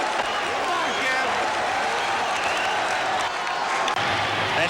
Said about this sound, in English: the crowd comes very much alive again as Kevin Mitchell comes to the plate